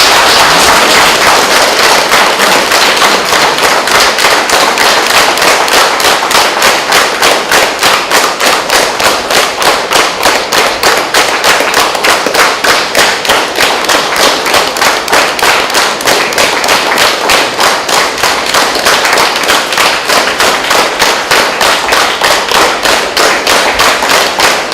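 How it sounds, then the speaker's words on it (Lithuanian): Parishioners in a church applaud to welcome a new parish priest, a loud, sustained clapping that settles into an even, rhythmic beat and continues without pause or voices. "Dabar vyskupas ir aš ir parapiečiai plojimais pasveikina naująjį kleboną."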